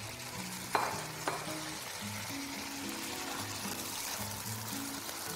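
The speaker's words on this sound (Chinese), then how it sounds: "先把五花肉的油先煸出来" Pork belly fries in a wok over high heat with a steady hiss and crackle of rendering fat, plus a couple of sharp spatula clinks early on, continuous and close.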